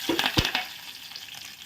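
Tempering spices frying in hot oil in a kadai, with a couple of quick scraping stirs and a knock against the pan up front, then a soft, steady sizzle trailing off.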